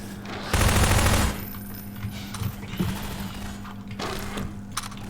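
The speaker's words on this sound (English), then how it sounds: "there's a guy shooting at me" A burst of rapid automatic gunfire in the video game Half-Life 2 rings out loud for under a second, followed by scattered softer shots and clattering game effects.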